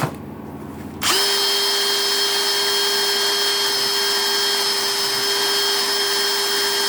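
A drill press trimming a rivet on a knife handle: after a quiet second the motor spins up abruptly to a loud, steady high whine with a grinding edge, holding constant to the end.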